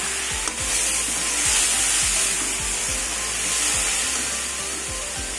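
Cumin, coriander, chili and turmeric powder sizzling in a frying pan with ginger and a little water make a loud, continuous hiss, broken by a regular scraping stroke about every half second as the spices are stirred.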